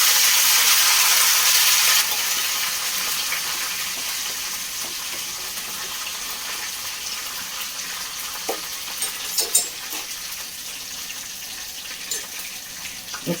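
Dried red chillies and curry leaves hiss and crackle in hot tempering oil for a curd dish, a loud burst at first that settles into a steady close sizzle with small pops.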